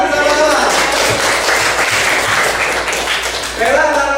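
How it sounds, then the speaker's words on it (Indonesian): Schoolchildren in an eighth-grade classroom clap together in a steady, dense burst of applause lasting several seconds, loud and close, with a teacher's voice speaking briefly at the start and end. "Yuk, tepuk tangan bersama-sama."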